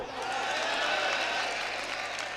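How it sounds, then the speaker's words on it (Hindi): Faint, steady applause from a poetry recital audience greets a comic poet, a soft, even wash of distant clapping with a low hum beneath and no voices. "जनाब सबरस मुरसानी जोरदार तालियों से इस्तकबाल कीजिए"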